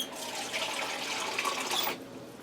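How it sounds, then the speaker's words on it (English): Water poured over fettuccine in a pressure cooker, a steady broad hiss of running liquid for about two seconds before it abruptly stops, close and fairly loud with no talking. "I think I'm going to add a little more water on top of that because you want to have your fettuccine covered"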